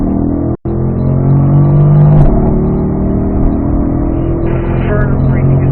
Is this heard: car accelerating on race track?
yes